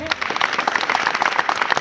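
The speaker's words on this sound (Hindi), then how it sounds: "क्या ताली बजा सकते हैं?" A church congregation claps along during a Christmas sermon, a loud, rhythmic run of hand claps with voices mixed in.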